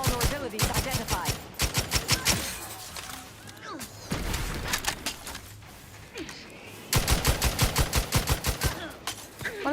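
Rapid automatic gunfire in The Outer Worlds 2 rattles in loud, evenly spaced bursts, stopping for a few seconds before starting again, with a voice briefly talking during the lull.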